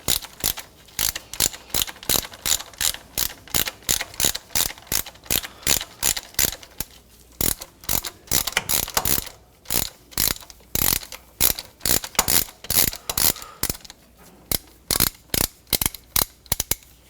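A hand ratchet backing out the last bolt on a 1997-2003 Ford F-150 transfer case shift motor, fast rapid clicking in bursts of strokes with short pauses between, close and loud with no talking.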